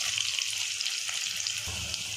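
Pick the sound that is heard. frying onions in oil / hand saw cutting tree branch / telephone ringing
frying onions in oil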